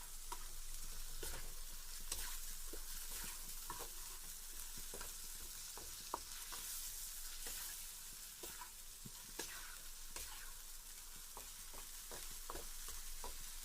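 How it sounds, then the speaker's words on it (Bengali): Spices frying in a pan for a fish curry while being stirred, a steady soft sizzle with scattered scraping ticks from the stirring, low and continuous with no talk. "এই কালার এখনো নাড়তে থাকবো, এরকম নাড়তে নাড়তে থাকতেই থাকবো"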